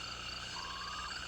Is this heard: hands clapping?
no